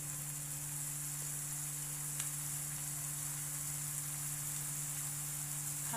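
Masala frying for sukka mutton gives a steady, close sizzle of high hiss that runs unbroken throughout, with a faint electrical hum underneath and no talking.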